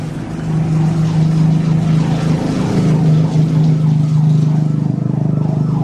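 A motorcycle tricycle engine idling inside a cramped home garage, a loud, steady, close throbbing rumble with a fast pulsing beat that holds continuously throughout.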